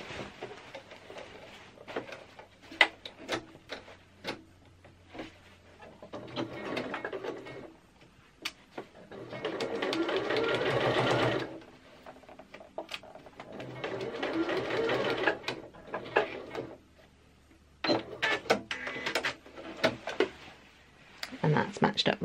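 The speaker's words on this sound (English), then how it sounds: "we're just going to sew a basting stitch just down here." Sewing machine running a basting stitch along a skirt seam, starting and stopping in several short bursts of rapid mechanical clatter, with quiet talk in the pauses between runs.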